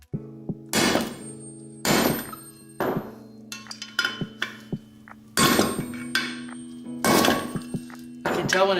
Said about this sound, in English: Then I use a bigger hammer